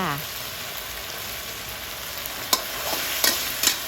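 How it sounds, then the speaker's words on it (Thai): Glass noodles with egg and minced pork stir-fried in a pan: a constant close sizzle with a few sharp scraping strokes of a spatula near the end, no one speaking. "หลังจากนั้นเราก็ผัดค่ะ ผัดต่อไปเรื่อยๆค่ะ"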